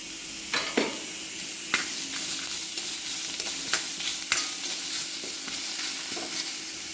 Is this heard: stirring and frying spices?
yes